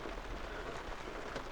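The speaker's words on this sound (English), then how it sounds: "Well, it's raining pretty hard, but I feel like a tent should be able to sustain this." Heavy rain pounds on a camping tent, a dense steady drumming patter heard up close and continuous without any voices.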